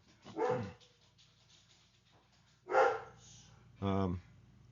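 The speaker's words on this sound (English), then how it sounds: "Forgive the dog. He's after some booger." A dog indoors gives three separate barks spaced over a few seconds, the last one sharp and loud, with quiet room tone between them.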